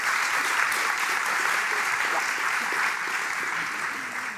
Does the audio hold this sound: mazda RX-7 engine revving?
no